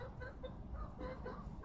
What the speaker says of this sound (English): The other chickens are getting jealous, but they're not sure what's going on.